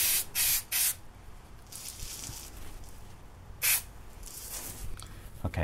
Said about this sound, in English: I'm going to spray directly on the fabric.